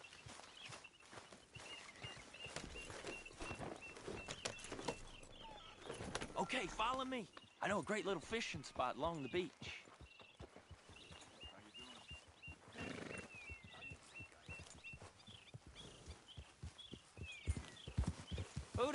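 Horse hooves clip-clop at a riding pace in Red Dead Redemption 2, a steady rhythm running under a voice as riders travel along a beach, with game music and ambience around them.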